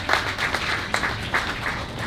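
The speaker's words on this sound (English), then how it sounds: "Let's give our young people a round of applause" A modest crowd claps for young people at a mayoral re-election announcement, scattered hand claps forming a moderate, uneven patter with some individual claps standing out.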